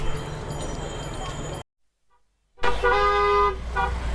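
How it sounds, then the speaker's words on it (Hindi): Car horns honking in a long traffic jam near Champaner-Pavagarh, Gujarat, under steady road noise; after a short silence a loud nearby horn blares for about a second amid the rumble. "भाई इतना जाम लगा हुआ है और उसके बावजूद भी लोग हॉर्न बजा रहे हैं।"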